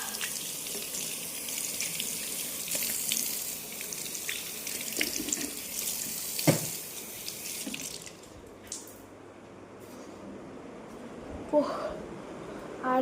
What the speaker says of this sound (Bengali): সুন্দর করে হাত ধুয়ে নেই।